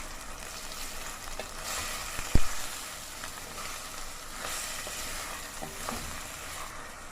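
Minced fish keema sizzles steadily in a hot pan with garlic and ginger paste, a close, even crackle of oil punctuated by one sharp tap of a utensil and occasional light stirring.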